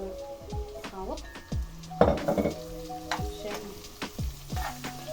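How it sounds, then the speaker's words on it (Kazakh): Onions frying in a pan with meat for a Kazakh rice lagman, sizzling steadily up close while a utensil stirs and scrapes, with clinks of cookware and a brief spoken word. "Жуанымызды жақсылап қызартып буырып аламыз."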